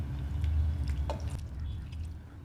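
Milk poured over breakfast ingredients in a bowl gives a soft, close liquid pour with a few faint drips, running for a couple of seconds without talk.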